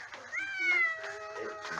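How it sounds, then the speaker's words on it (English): A kitten meows at a vet visit, several drawn-out mewing calls in quick succession, close and fairly loud, with a faint human murmur beneath. "She kept on meowing and bumping into us"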